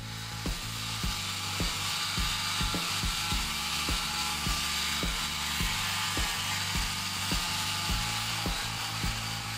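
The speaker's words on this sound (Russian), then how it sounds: "Теперь необходимо при помощи механического либо ручного способа ошлифовать эти заготовки." A power sander smooths small wooden toy blanks with a steady mechanical whir, and regular rhythmic knocks from the machine sound underneath it. The sound is continuous and close, with no voices.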